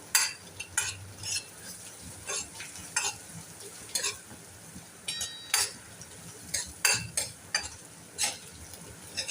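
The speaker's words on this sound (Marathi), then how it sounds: "आणि आलं लसूण आणि मिरची यांचा जो ठेचा आपण बनवला होता हा जरा असा व्यवस्थित फ्राय करून घेऊया." Ginger, garlic and chili paste fries in a pan with a soft continuous sizzle, punctuated by repeated sharp scrapes and clinks of a spoon stirring against the metal, close and fairly quiet with no talking.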